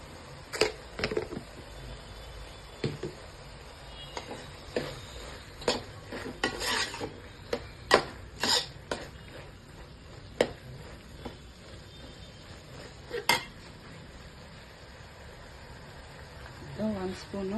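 Bidiru (bamboo shoot) palya being mixed in a pan: a string of sharp spoon clinks and scrapes against metal at irregular intervals over a faint background hiss, heard up close.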